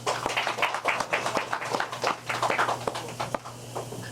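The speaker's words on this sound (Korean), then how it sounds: "박수 부탁드립니다" Scattered hand clapping from a small audience at a school alumni reunion meeting, irregular and fairly close, with a steady low hum underneath.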